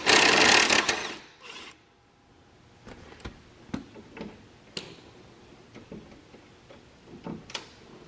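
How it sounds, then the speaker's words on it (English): Rear engine mount bolts being removed from a John Deere D170 riding mower, with a burst of ratchet or tool noise at the start followed by scattered light metallic clicks and ticks at close range. "So I'll start by taking the 2 rearward bolts off completely."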